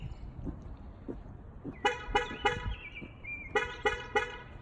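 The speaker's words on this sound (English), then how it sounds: "So 6 horn honks saying, hey, you left someone or something in the rear seats." A 2019 Nissan Altima's horn honks in a quick series of short beeps, six in total in two bursts, as a rear-seat reminder after the car is switched off and locked, over a faint low background rumble; no one speaks.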